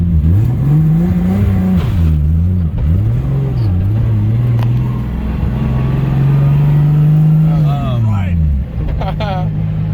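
A Nissan Chaser drift car revs hard through third and fourth gear at a track event, a loud close engine note swinging up and down, with people talking over it.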